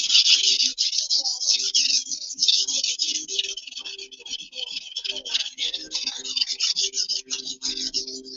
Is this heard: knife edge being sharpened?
yes